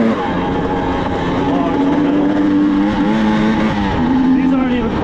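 A 1992 Yamaha YZ250 two-stroke dirt bike engine drones steadily and loud on wooded trails, its pitch wavering slightly as the throttle shifts.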